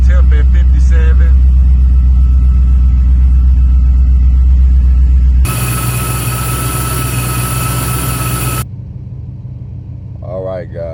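A big-block engine in a 1986 Buick Regal Limited runs warmed up with a loud, steady low rumble close by, shifting to a brighter, rougher tone midway and then settling back to a quieter idle.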